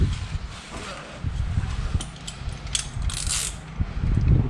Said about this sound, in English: So you just tighten both of them.